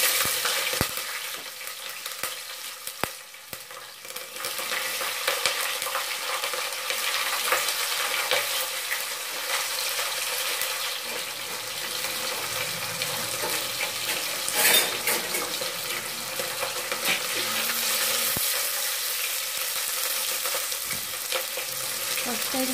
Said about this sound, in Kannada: ಕರಿಬೇವು, ಅದೆರಡು ಸ್ವಲ್ಪ ಫ್ರೈ ಆಗಬೇಕು.